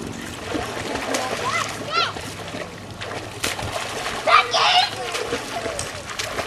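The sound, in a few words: child splashing water in a swimming pool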